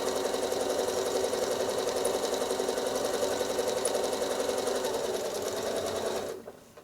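A sewing machine stitching free motion quilting, a fast continuous mechanical whir with a steady rapid needle rhythm, loud and close, stopping abruptly at the end.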